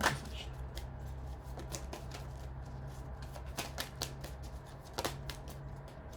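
Tarot cards are shuffled for a card reading, a quick run of crisp riffling flutters and soft slaps, close but quiet, with a louder burst at the start and another near the end.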